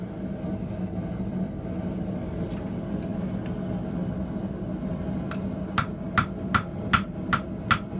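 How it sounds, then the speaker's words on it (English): Six sharp metallic strikes of an old blacksmith's hammer on 1095 high carbon steel ring out in a steady rhythm near the end, following a stretch of low workshop hum and a few light clinks. "This is the old water tower hammer from a few blacksmithing videos ago."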